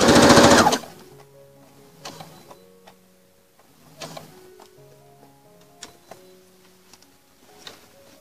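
A sewing machine stitches a seam on a boy's suit jacket, beginning with a loud whirring run that stops abruptly, then several short, rhythmic bursts of clattering stitches separated by quiet pauses.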